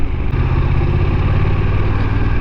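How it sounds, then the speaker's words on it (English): A BMW F 900 XR motorcycle on the move, its engine and exhaust giving a loud, steady drone with mechanical clatter layered over a deep rumble, continuous throughout and with no talking. "I can hear more mechanical noises now on the bike."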